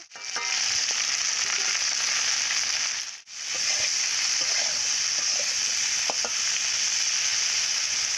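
Potato curry with okra frying with salt and turmeric, a loud continuous hiss of sizzling oil, close up, with a brief break and a few faint stirring clicks.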